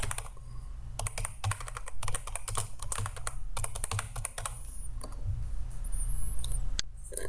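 Fast typing on a computer keyboard, with bursts of close, crisp key clatter separated by short pauses and no speech.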